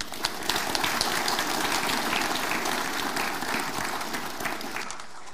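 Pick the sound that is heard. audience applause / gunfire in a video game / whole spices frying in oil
audience applause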